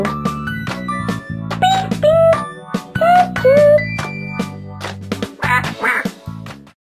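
Loud, repeated duck quacks ring out over a tinkling melody, the calls coming in short bursts of two or three.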